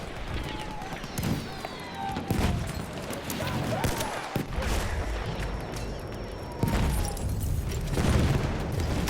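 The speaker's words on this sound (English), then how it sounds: "And they're aware of our position, they're shooting mortars out." Battlefield 1 World War One combat, with mortar fire and gunfire rolling through a dense, continuous battlefield din, scattered booms and rattling shots layered over one another, and a heavier burst near the end.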